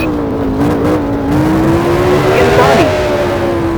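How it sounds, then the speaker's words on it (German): Racing car engine from the F1 Challenge video game, set in the 1983 Detroit street-circuit Grand Prix, drones steadily at a near-constant pitch as the car rolls into the pit lane, with a brief pitch dip near the end and voices talking over it. "Fährt in die Boxengasse. Fährt an die Box."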